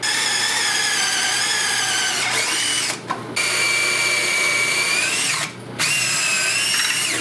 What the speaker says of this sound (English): We got to drill new holes.